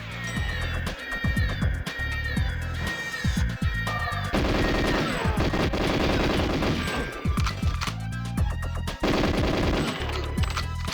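Unsilenced MP5 submachine gun fire in the N64 game GoldenEye 007: dense, loud bursts of automatic shots repeating throughout, with several short pauses between volleys.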